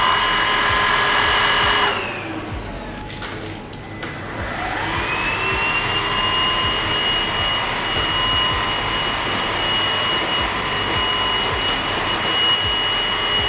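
A Kurumi KV05 handheld vacuum cleaner whirs steadily, its motor pitch dropping briefly as it slows and then spinning back up to a constant, fairly loud hum.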